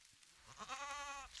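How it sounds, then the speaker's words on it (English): Goat bleating in an anime scene, a single drawn-out wavering bleat lasting about a second, fairly clear and alone. "They've never seen a goat before?"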